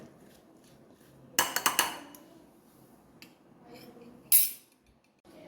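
A spoon mixing mango pickle with ground fenugreek and asafoetida powder, giving a quick burst of clinks and scrapes against the container, then a quieter stretch and one more sharp clink.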